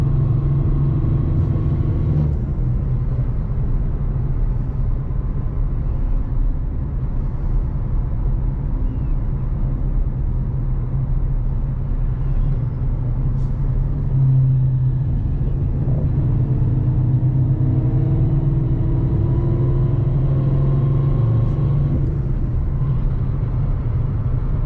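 A car with a Tremec Magnum XL manual transmission cruising in fourth gear, a steady loud low engine drone and road rumble heard from inside the cabin, continuous and unbroken.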